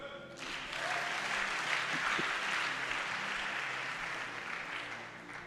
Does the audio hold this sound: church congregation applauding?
yes